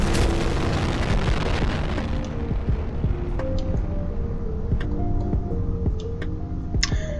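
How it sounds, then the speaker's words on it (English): An atom bomb goes off in Ragdoll Killing Simulator, a loud broadband blast at the start that rolls into a long rumbling decay, with scattered pops and tonal game effects ringing out over the tail. "Atom bomb."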